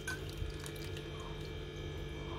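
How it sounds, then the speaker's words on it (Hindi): Water pours steadily into a bowl of rinsed, soaked sago pearls in a home kitchen, making a continuous close splashing wash over a low background hum, with no talking. "पानी डालेंगे"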